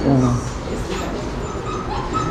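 A Labrador puppy at a pet shop whimpers and yips in short, close bursts, with a faint voice in the background.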